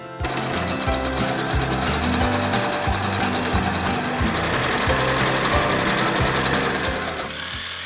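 A sewing machine runs continuously and loudly, stitching the sleeves of matching family clothes cut from a single length of fabric, its rapid mechanical whir and rhythmic thumping holding steady until it stops near the end.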